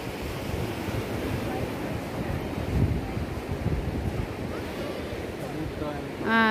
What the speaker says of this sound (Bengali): চারিদিকে শুধু সমুদ্র আর সমুদ্র।